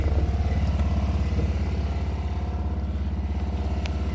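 A small BMW Isetta's single-cylinder engine idles steadily up close, a low, even putter with a rapid rhythmic chug that holds constant, with no talk over it.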